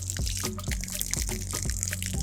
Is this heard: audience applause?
no